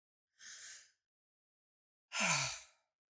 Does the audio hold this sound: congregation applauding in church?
no